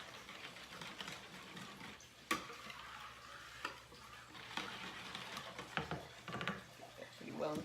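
French toast casserole ingredients are stirred and whisked in a bowl, giving faint, soft scraping with light irregular clinks and taps. A few sharper knocks stand out as someone speaks quietly.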